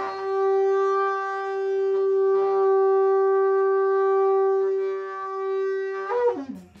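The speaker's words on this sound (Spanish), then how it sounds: "uno de los instrumentos que tenían ya en la Edad de Hierro era el carnix" A carnyx, the Celtic Iron Age war horn, sounds a long steady, loud brassy note with rich overtones, then ends with a quick falling slide of pitch.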